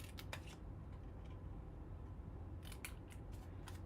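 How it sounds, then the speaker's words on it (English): Scissors snip through a paper banner box to cut out its corners, giving a few close, crisp cutting sounds in short bursts near the start and toward the end, with no one talking. "Let's cut those corners out."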